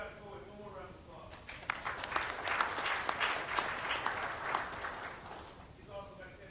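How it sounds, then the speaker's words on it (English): Applause for an inductee at a military regiment ceremony: a crowd claps in a burst that swells in the middle and then dies back, with a voice speaking before and after the clapping. "He also got to go with one more round of applause."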